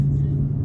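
A 2019 Dodge Challenger 1320 launching off the trans brake into heavy tire spin, its engine droning loud and steady with a low rumbling roar throughout, close by.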